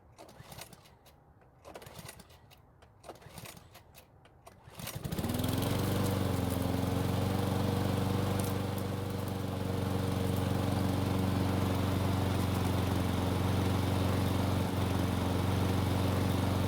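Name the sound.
Cub Cadet riding mower engine running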